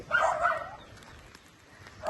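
A dog gives a brief cluster of sharp barks and yips during a fight near a home garden, loud at first and then fading into quiet outdoor ambience.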